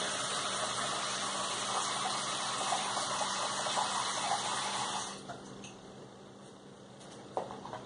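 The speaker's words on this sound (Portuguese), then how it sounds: "colocar água, somente água da torneira, na terceira vasilha." Tap water gushes steadily into a container, a continuous full pour that drops off near the end, leaving quieter trickles and a small clink.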